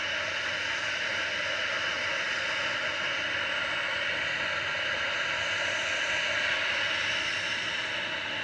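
A Ryanair airliner departs Manchester Airport for Tangier, its jet roar a steady, even wash of broadband noise that holds throughout at a moderate distance.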